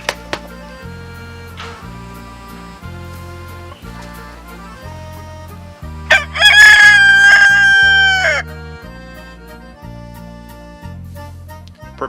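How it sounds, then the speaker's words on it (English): At Deep Water Vineyards, chickens cluck steadily while a rooster lets out a loud, drawn-out crow partway through, all mixed under a steady rhythmic music track. "here at Deep Water Vineyards, they do have chickens"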